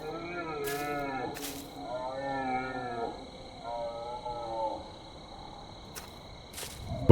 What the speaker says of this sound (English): Well, that sounds like an elk.